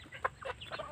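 Several chickens of a French breed cluck softly and irregularly nearby on a corn-growing farm, short overlapping calls against faint background noise.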